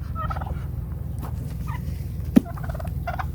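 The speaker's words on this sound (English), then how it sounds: "it's a turkey!" A turkey gobbles in a farmyard, a rapid warbling call repeated in short bursts over steady low background noise, with a sharp knock partway through.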